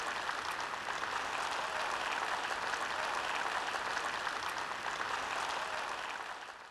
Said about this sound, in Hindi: 10-15 लोग ताली बजावत है।